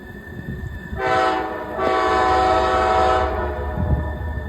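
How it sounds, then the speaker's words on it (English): A Canadian Pacific Railway train rumbles nearby as its horn sounds in two loud blasts, a short one then a longer sustained one. "This train is coming from the east, headed west on the Canadian Pacific Railway."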